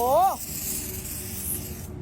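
Spray cleaner is applied to parts of a Yamaha VR125 motorcycle, giving a steady, close, hissing spray that runs for about two seconds. A brief voiced sound at the very start comes before the spray.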